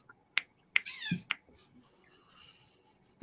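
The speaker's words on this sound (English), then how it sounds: "My cats are fighting." Cats fighting indoors: sharp yowls and short snapping cries in a quick irregular burst, fairly close and loud, then a quieter drawn-out growl-like tail.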